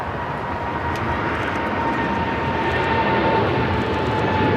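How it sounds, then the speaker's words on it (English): A Boeing 777 freighter on the runway at LAX gives off a loud, constant jet engine rumble with a thin steady whine riding on top, unbroken throughout. "First time I've seen this livery on this 777 freighter"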